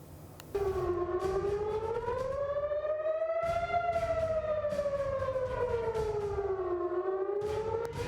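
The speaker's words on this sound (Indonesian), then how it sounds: "Sirine serangan udara berbunyi di seluruh penjuru Tel Aviv" An air raid siren wails continuously across Tel Aviv during a missile attack, its pitch slowly rising and falling in long sweeps, loud and echoing over faint background noise.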